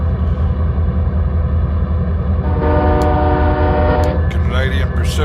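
A Canadian Pacific freight train in Train Simulator 2015 rumbles steadily throughout, with a sustained horn blast rising over the engine drone from midway and brief clanks near the end; there is no talking.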